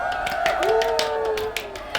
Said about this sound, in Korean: 게스트분께 박수!